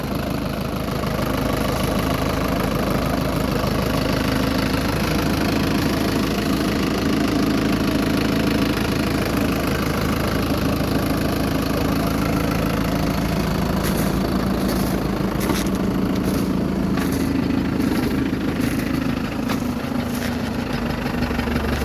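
A steady 2023 Lovol 504 diesel tractor engine idles close by, a constant low rumble with a faint rhythmic knock throughout.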